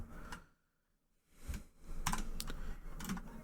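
Fingers type a line of text on a computer keyboard: a brief burst of clicks, a near-silent pause, then a denser run of close, crisp keystrokes with a few louder taps.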